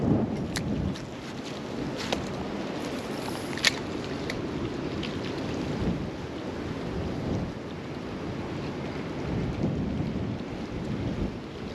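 Wind gusting steadily across an open lake during bass fishing from a boat, a constant broadband rush with occasional faint knocks and splashes, loud and unbroken throughout with no talking.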